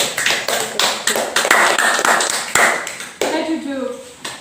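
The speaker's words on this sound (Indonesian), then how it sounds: "Tepuk tangan untuk Mas Fahri" An elementary school class claps for a student named Mas Fahri, a loud rhythmic run of patterned claps close by. Children's voices call out over and between the beats.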